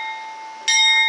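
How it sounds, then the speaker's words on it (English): A temple bell in Bandipur, Nepal hums with a lingering metallic tone, then is struck again for a bright, ringing clang that sustains to the end. "He's ringing the bell."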